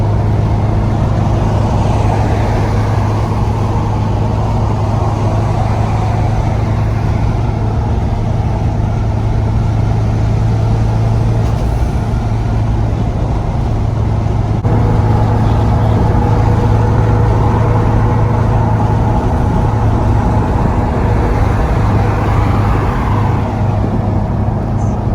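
A 1998 Mazda 2.5RS car driving in Florida traffic gives a loud, steady engine drone with road and wind roar that holds without a break, swelling slightly partway through as the car moves along.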